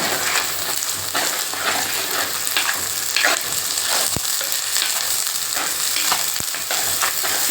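Ground onion, tomato and coconut paste frying with okra for a tamarind curry, a continuous close sizzle with spoon stirring and a couple of sharp clinks against the pan.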